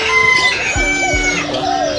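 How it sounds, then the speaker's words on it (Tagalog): Small quails calling at a bird and fish market: a couple of short, clucking, crow-like calls close by over a busy background of other chirping birds. "Ibon yan. Pugong maliliit."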